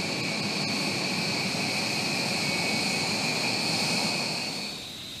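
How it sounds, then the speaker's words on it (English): The engines of a B-1B Lancer strategic bomber give a steady, broad roar with a sustained high whine, holding level before easing off slightly at the end. "Another dominant U.S. Air Force aircraft is the B-1B Lancer strategic bomber."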